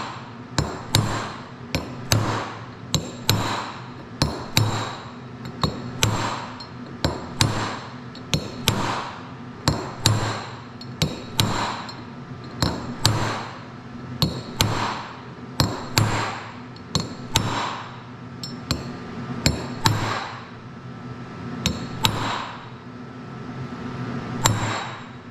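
A heavier hammer taps a bearing raceway into a hub, steady metallic strikes repeating every second or so over about 25 seconds, close and ringing, with no talk.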